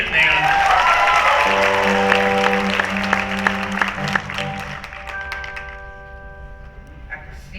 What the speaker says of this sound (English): Let's give them a lot of applause.